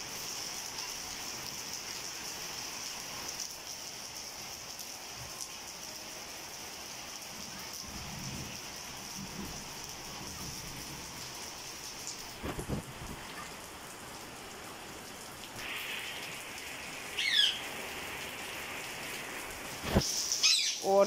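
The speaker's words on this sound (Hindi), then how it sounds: "और बारिश बहुत ही मज़े की हो रही है।" Heavy rain pours down steadily onto a rooftop and surfaces, a continuous dense hiss with a few louder splashes and knocks near the end.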